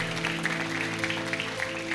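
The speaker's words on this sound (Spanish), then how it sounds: "Dale, si quieres, otro aplauso al Señor." A congregation claps during a Spanish-language church service, a moderate, fairly dense round of applause over a steady sustained tone, likely music, holding through the short moment.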